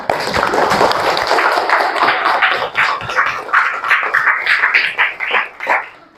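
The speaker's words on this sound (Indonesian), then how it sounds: "Silakan tepuk tangan." A classroom of students applauding in a dense, steady patter of many hands that carries on for several seconds, loud and close, then breaks into uneven bursts as it tapers off.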